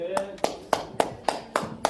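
A church seminar audience claps together in a slow, even rhythm, seven sharp, loud claps spaced about a quarter second apart, with a voice speaking briefly at the start.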